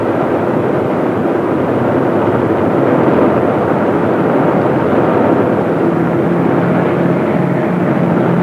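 Loud, steady engine drone of a Douglas A-26 twin-engine plane in a flight simulator game, a continuous dense roar without breaks.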